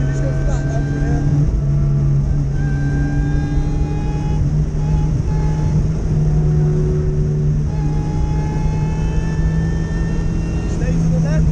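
A supercharged Vauxhall VX220 runs flat out on the Nurburgring, its engine a loud, sustained high drone with rising gear sweeps heard from inside the car, while a voice talks over it.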